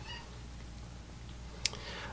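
A cat meows faintly once or twice in a quiet room, soft and somewhat distant over a low steady background hum.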